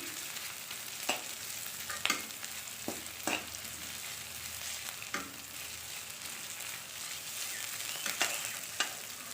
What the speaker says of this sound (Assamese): এনেদৰে অলপ মই ভাজি দিছোঁ